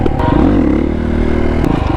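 A stunt motorcycle rides in second gear, its engine droning loud and steady close by, with a brief clatter near the start and the end, and no talking.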